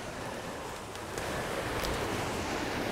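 A waterfall on Bird River in a forest gives a steady, broad rushing roar that stays constant and fairly close throughout, with no voices.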